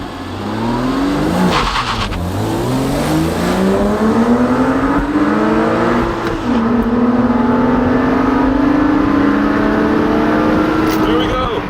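An Audi Allroad and a Porsche Boxster launch in a drag race with loud, close engine revving whose pitch climbs through the gears. People talk over the engine noise.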